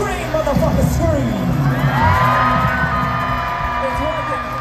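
A large crowd at a live concert at Talking Stick Resort Amphitheatre screams, whoops and cheers continuously and loudly, with high shrieks and shouts rising over the din.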